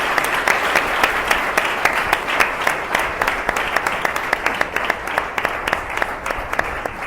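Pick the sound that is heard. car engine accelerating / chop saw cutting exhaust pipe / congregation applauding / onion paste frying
congregation applauding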